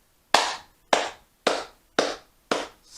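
A deliberate slow clap: six sharp, single hand claps land alone at an even, unhurried pace about half a second apart, each crisp and close.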